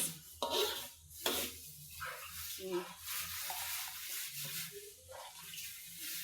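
Blended sauce for squid being stir-fried in a pan at home, a steady low sizzle with scraping and stirring rubs from a utensil, fairly quiet and continuous throughout.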